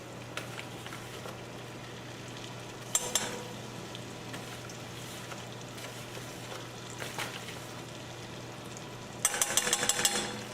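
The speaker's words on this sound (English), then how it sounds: "Then we're going to incorporate the flour with the butter, making sure it's good and mixed in." Butter and flour roux being stirred in a pan for zucchini Parmesan, a steady low sizzle with scattered scraping strokes and a brighter clatter of utensil near the end, no talking.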